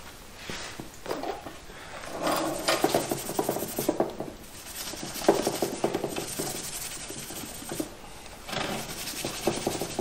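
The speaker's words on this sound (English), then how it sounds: "So I'll clean it up with some Scotch-Brite" A rusty TH350 transmission part is scrubbed by hand with a Scotch-Brite pad, making close, uneven rasping strokes that swell and fade in bursts, with no talk.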